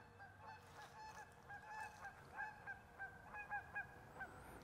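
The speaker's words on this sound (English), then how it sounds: "You hear those geese in the background." Geese honk repeatedly in the background, a series of distant nasal calls in an irregular rhythm over outdoor ambient noise during a drone flight.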